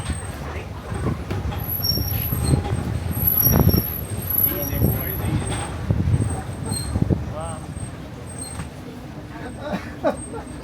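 A tour trolley bus on an old town sightseeing route rumbling over a bumpy road, with low engine drone, jolts and rattles and an air brake hiss, while a guide talks over it.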